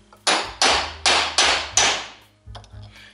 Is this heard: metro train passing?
no